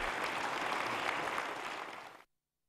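Conference participants at a formal government and party meeting applaud enthusiastically, a broad sustained wash of clapping from a large crowd that fades out and then stops abruptly.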